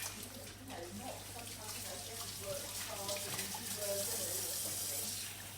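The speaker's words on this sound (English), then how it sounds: "Give them a good wash." A kitchen tap runs steadily into a sink as hands are washed before baking scones, a soft continuous splashing hiss at moderate distance, with faint voices talking underneath.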